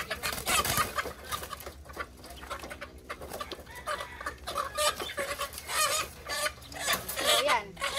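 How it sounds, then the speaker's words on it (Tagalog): Young chickens cluck in battery-type cages set under banana trees, a busy, continuous flock chatter at close range with overlapping calls throughout. "Yun yung mga nakalagay dito manok."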